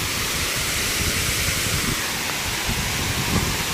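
Rushing floodwater roars loudly and steadily through a drain swollen after rain, a dense, continuous torrent with no voices.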